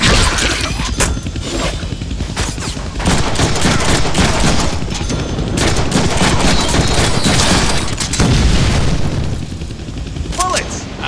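Gunfire and booms from the Deadpool video game, dense and loud bursts over about eleven seconds, mixed with scattered crashes and faint game voices beneath the shooting.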